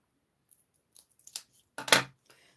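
Scissors snip through thin sticky craft pieces in a few short, close, crisp cuts, with a louder, longer slice near the end and quiet gaps between.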